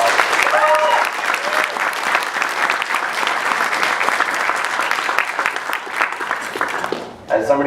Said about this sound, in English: Let's give all the students behind us a huge round of applause.